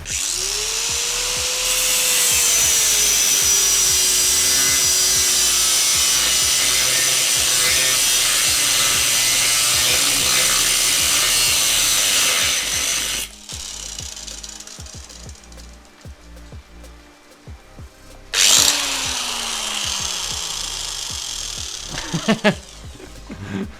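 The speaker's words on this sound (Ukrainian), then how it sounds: "Зріжемо ці болти." A power tool cuts off bolts on a scooter being built up as a motorcycle, a loud sustained grinding whine that dips and shifts in pitch, stops, then restarts briefly with a few sharp bursts.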